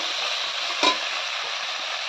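Broad beans frying in oil in a karahi wok, a steady close sizzle with one brief louder clink of utensil against the pan partway through.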